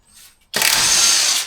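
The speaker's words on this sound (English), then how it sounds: "So let's see if it can whiz these nuts off." A Kilda impact wrench whizzes nuts off during an MG Midget engine bay strip-down, a faint lead-in then a sudden loud close buzzing burst lasting about a second alone.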